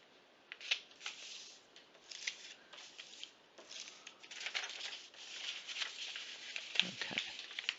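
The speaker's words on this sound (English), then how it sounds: "I'm going to fold this again so that hopefully we can see all of this" A sheet of paper is folded by hand, giving quiet, close crinkling and rustling in short bursts that grow busier toward the end.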